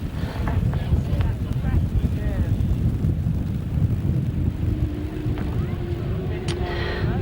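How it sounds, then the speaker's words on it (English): 1000cc sidecar racing motorcycles roar around a grasstrack at a 2002 Champion of Champions meeting, a loud continuous engine drone under heavy wind buffeting on the microphone, with a faint rising whine near the end. "this is the 1000cc Sidecars out for the first time"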